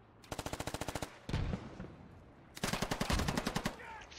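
Rapid machine gun bursts in a multiplayer shooter match, two loud sustained volleys of evenly spaced shots separated by a brief rumbling pause, close and sharp with no speech over them.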